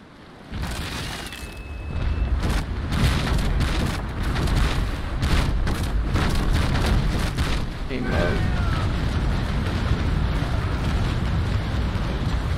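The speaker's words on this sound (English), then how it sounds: "A few more broadsides and this fight should be over." Ship cannon broadsides in the naval combat game Naval Action, deep booming blasts rolling together over steady wind and sea noise, loud and sustained.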